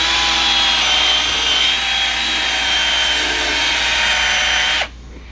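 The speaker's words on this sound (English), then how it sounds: "whatever speed your drill does in the fast setting is the right setting to use on this" A power drill running steadily at high speed drives a polishing pad across a car headlight lens, a continuous loud whine that stops abruptly near the end.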